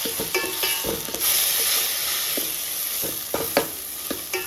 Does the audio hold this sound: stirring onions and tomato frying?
yes